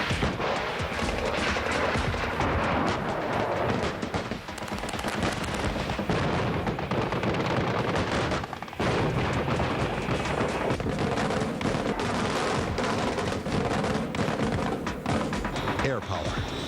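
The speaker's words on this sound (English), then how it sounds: "The climax of the show comes with a display of the entire arsenal firing together." Massed military weapons fire together at a US Army Fort Knox combat training demonstration, a dense, loud, continuous barrage of gunfire and artillery booms with brief dips, alone without talk.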